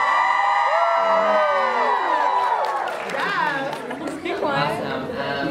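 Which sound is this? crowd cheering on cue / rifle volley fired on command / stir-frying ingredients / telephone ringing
crowd cheering on cue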